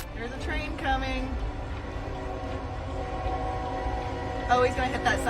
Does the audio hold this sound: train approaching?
yes